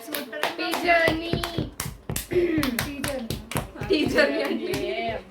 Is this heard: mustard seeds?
no